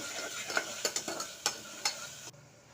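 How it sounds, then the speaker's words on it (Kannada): Field beans sauté with salt in oil, making a low sizzle. A spoon strikes the pan in a quick series of sharp taps, then everything drops almost to silence. "ಸ್ವಲ್ಪ ಉಪ್ಪು ಹಾಕಿ ಹಾಗೆ ಎಣ್ಣೆಯಲ್ಲಿ ಸ್ವಲ್ಪ ಬಾಡಿಸ್ಕೊಳ್ಳಿ"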